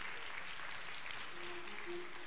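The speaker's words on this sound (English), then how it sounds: "Let's give God a hand clap of praise for him." Church congregation applauding in praise during a Sunday worship service, a steady wash of many hands clapping at moderate volume, quite distant, with a faint sustained tone underneath.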